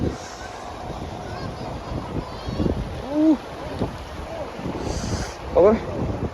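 Wind gusting outdoors by the Sekong river bridge, a steady rushing roar buffeting the microphone, with people talking and calling out over it.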